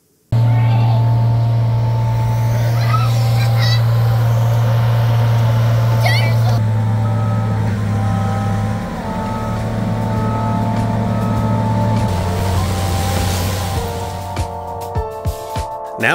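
An excavator with black smoke from its exhaust and a dump truck work at a lumberyard being built, giving a loud, steady low diesel drone that shifts pitch now and then, with a few clanks near the end.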